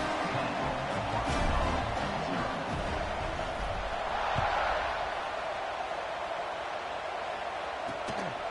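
Stadium crowd at an Arkansas at LSU college football game roaring steadily before the kickoff, a dense continuous wash of cheering that swells briefly and stays loud throughout.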